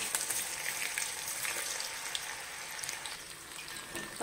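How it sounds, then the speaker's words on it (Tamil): Baby corn frying in hot oil, a dense, continuous hiss and crackle with scattered bubbling pops, steady and close throughout with no voices. "இப்போ எண்ணெய் நல்லா காய்ஞ்சிருச்சு, எண்ணெயை வந்து நல்லா சூடானதுக்கப்புறம் போடுங்க"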